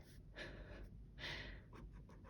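A voice imitates a running cat breathing heavily, with a few quiet, close huffs and pants in a rough rhythm and no words.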